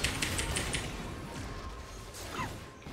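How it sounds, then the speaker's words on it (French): Rapid clattering of computer keyboard keys being spammed during a League of Legends ARAM match, a dense burst of clicks at the start then steady game noise underneath, moderately close. "j'ai spam mon clavier"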